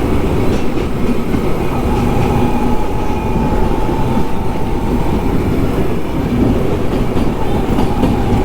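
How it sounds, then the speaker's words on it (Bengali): A train rolls past a roadside during a bike trip from Kolkata to Siliguri, with a loud, steady rumble and rhythmic clickety-clack of the wheels over the rails, sustained throughout at close range. "এই তো একটা ট্রেন ভাই"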